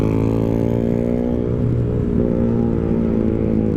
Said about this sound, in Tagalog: ang ingay naman ng motor nyo, boss